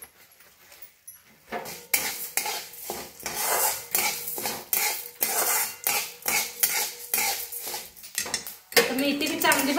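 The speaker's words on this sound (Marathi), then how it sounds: "आता मेथी भी चांगली भाजल्या, काढून घेऊया।" Fenugreek seeds dry-roasting in a pan while a spoon stirs them, repeated metallic scrapes and clinks in a steady rhythm, close up; a brief faint sizzle near the end and no talk.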